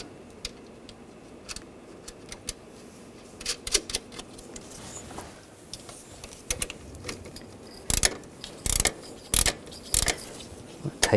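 Ratchet tightening a nut on the alternator of a 2006-2009 Mercedes-Benz E350: soft sparse clicks at first, then louder bursts of rapid close-up clicking in quick strokes, with no talk.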